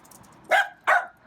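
A dog barks twice outdoors near a pizza place with an outdoor kitchen and oven, two sharp, fairly close barks about a third of a second apart over a quiet background.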